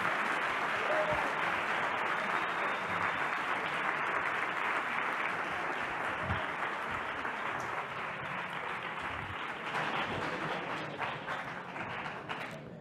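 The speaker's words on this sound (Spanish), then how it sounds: "hay que alargar los aplausos" Sustained applause fills an award ceremony hall as a blog award winner goes up to collect his prize, a steady dense clapping that lasts throughout at a moderate distance.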